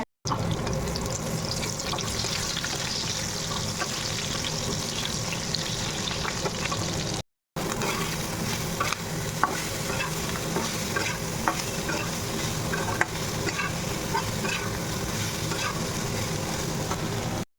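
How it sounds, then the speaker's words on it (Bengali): Potatoes fry crisp in a pan of oil, a dense, continuous close sizzle with scraping stirs. A brief silent gap falls near the middle, then the frying resumes just as loud, with no talking. "এখন আলুটা অতটা তেল দিয়ে কড়া করে ভেজে নিলাম"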